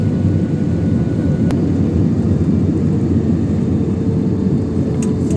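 Airliner on approach over a large city near Bangalore airport, a loud, steady broadband engine roar filling the whole stretch, close and continuous with no talk.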